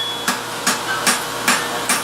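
A hammer strikes hot metal on the heel of an anvil during a forge-welding demonstration, five sharp, evenly spaced ringing blows about every 0.4 seconds, close and clear over a low steady hum.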